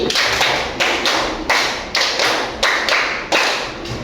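A classroom group performing a patterned 'tepuk 5' clap twice over, a string of loud, crisp unison hand claps in an even rhythmic sequence, with no talking.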